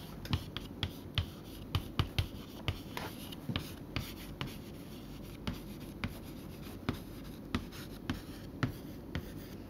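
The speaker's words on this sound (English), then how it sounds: "I will write it on the board." Chalk or marker strokes scratch and tap against a classroom board in a steady series of short, crisp hits over a low room hum, close by with no one speaking.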